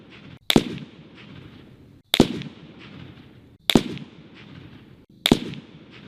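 Four unsuppressed rifle shots from a Bergara B-14 Ridge 6.5 Creedmoor, each a sharp loud crack with a short decaying tail, spaced evenly about one and a half seconds apart.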